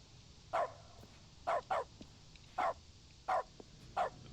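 Dog barks heard from the player in The Stanley Parable, six short sharp barks spaced irregularly across the clip, fairly clear over a faint background hum.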